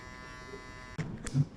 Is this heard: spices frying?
no